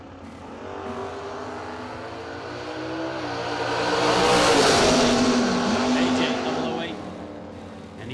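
A Chevy II wagon and a Pontiac Grand Slam launch at a drag race, engines roaring and swelling as they pass near, then fading, while a track announcer talks over the noise.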